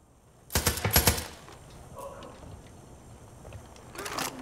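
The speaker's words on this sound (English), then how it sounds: "Actually, I can shoot through the window." Gunfire fired through a window in Far Cry 5: a tight burst of several rapid shots, loud and close, followed by quiet game ambience and a shorter burst at the end.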